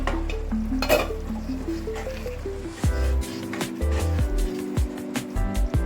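Paneer and vegetables simmer and sizzle in a pan, with soft stirring scrapes and intermittent clinks. A low steady tone runs underneath for the first half, and the cooking stays close and fairly quiet throughout.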